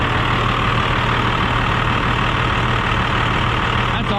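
A Cummins 12 valve diesel truck fitted with a VGT turbo idles close by in a steady, even, low rumble that runs unbroken throughout, with no talking.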